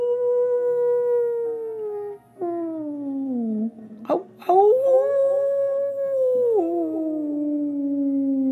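Voices imitate a moon wolf howling in long, close, sliding howls that rise and fall over several seconds, with overlapping tones and a brief break in the middle.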